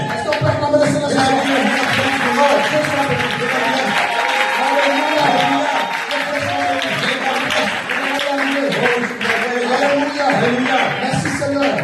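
A church congregation applauds and cheers loudly, acclaiming the Lord at an evening service, with sustained dense clapping and crowd voices filling the room throughout.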